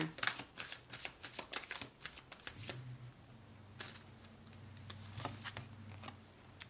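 Tarot cards riffled and shuffled by hand in quick, close, crisp bursts, then slower flicks with a faint low hum underneath.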